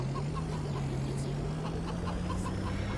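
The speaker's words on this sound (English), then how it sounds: "There you go, chickens." Backyard chickens cluck in short, soft, repeated calls while being fed, heard over a steady low engine-like hum throughout.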